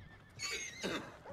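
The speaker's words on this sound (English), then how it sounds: "This horse is getting pissed off." An angry horse in Red Dead Redemption 2 lets out two sharp, agitated whinnies close by, with brief hoof sounds around them.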